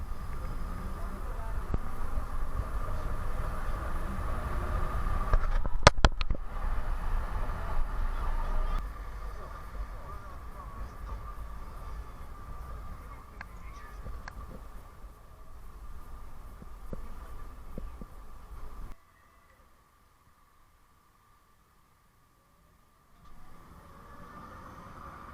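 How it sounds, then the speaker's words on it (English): A tram in Budapest rumbles along its rails with a low, steady roar and occasional squeals, then the noise drops away to near silence before faint sound returns. "the tram line down there"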